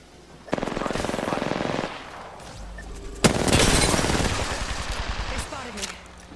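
Heavy automatic gunfire erupts in a video game firefight, two long sustained bursts of rapid shots, loud and close, the second starting with a sharp boom and trailing off.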